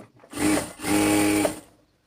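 A sewing machine stitches pajama fabric along a marked margin in two short bursts, a close buzzing whir that pauses briefly between runs, with no talking.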